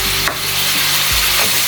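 Chicken or pork pieces for adobo frying and being stirred in a pan, browning, with a steady close sizzle broken by a few utensil scrapes and knocks.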